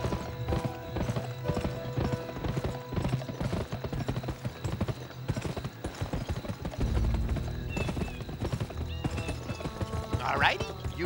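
Horse hooves clip-clop steadily in the Western video game GUN, a quick rhythmic trot heard close up over musical score, with gunshot-like pops and a whinny near the end and a speaking voice mixed in.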